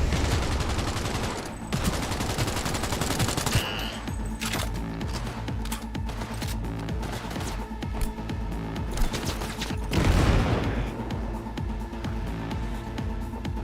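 Rapid bursts of gunfire in the video game KORPO crackle repeatedly, with sharp automatic volleys and a heavier blast near the end as a car explodes, all loud and close.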